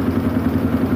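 A 2009 KTM EXC 400 enduro motorcycle engine idles while warming up, a steady low, even thrum held for the whole second with no revving.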